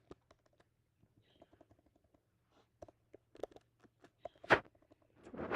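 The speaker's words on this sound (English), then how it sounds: "I'm typing funny things now" Computer keyboard keys tapped in short irregular bursts, close and fairly quiet, with a louder clack and rustle near the end.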